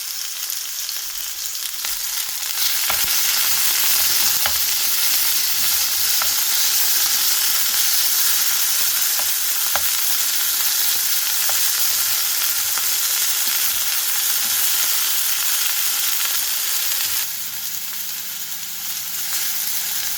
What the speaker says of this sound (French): on vient faire cuire notre viande